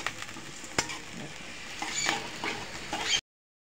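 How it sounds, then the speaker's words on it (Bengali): Green chillies and onion stalks fry in hot oil with a busy, close sizzle, punctuated by sharp spatula scrapes and stirring clatter before the sound cuts off abruptly. "কাঁচামরিচ আর পেঁয়াজের কলি দিয়ে দিলাম। আমি এটাকে একটু ভেজে নেব"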